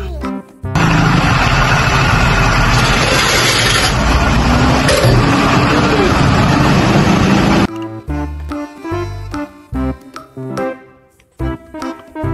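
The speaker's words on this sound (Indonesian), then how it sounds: "Mobil truk pasir." A sand truck's engine rumbles loudly and steadily for about seven seconds with a slight rise partway through, then stops abruptly and gives way to bouncy rhythmic music.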